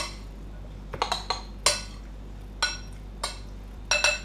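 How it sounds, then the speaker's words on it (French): A spoon knocks and clinks against a dish while seasoned carpaccio with salt, pepper and lemon juice is mixed, about seven sharp separate clinks spaced irregularly, close and fairly loud with no voices. "On va bien tout mélanger."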